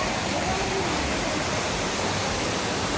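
Rampa waterfall at Peddakonda, Andhra Pradesh, running with low water flow, a loud, steady broadband rush of falling water filling the whole clip, heard from close by.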